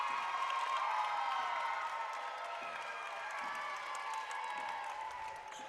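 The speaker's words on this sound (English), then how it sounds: "Got a big cheer to our left." A crowd at a high school boys' basketball semifinal cheers and claps, a broad continuous wash of noise from the stands heard at a moderate distance and fading slightly toward the end.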